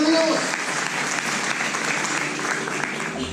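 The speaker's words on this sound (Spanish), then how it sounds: "Denle un fuerte aplauso." A church congregation claps heartily in a sustained, even wash of applause, with a brief voice at the very start before the clapping carries on alone.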